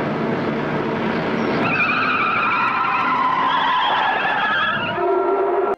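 Car drifting in the 1971 film Duel, a loud sustained tyre screech rising and wavering over engine noise for several seconds before cutting off abruptly.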